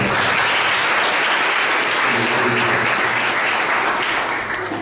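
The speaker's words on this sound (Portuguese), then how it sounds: "Aqueles que creem nisso, dê uma salva de palmas ao Senhor" A church congregation applauds in praise, a thick continuous wash of many hands clapping at close range, sustained evenly throughout.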